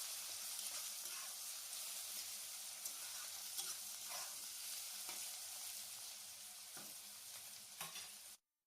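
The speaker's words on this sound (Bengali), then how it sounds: "দিয়ে এটাকেও ভালো করে ভেজে নেবো" Mushrooms fry with turmeric and salt in a pan, a continuous close sizzle with stirring scrapes and clinks throughout before cutting off abruptly.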